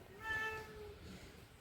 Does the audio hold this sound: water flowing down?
no